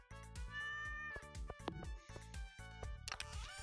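A cat meows repeatedly in the farming game Stardew Valley, several short tonal calls set against bright, plinking game music, fairly close and clear.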